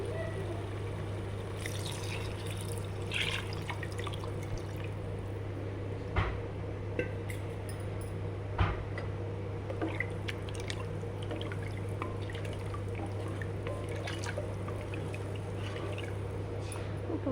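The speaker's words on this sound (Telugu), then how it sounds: "వాటర్ వేస్తున్నాను." Water poured into a cooking pot for tomato bath rice, a steady faint trickle and drip running under a constant low kitchen hum with a couple of brief knocks.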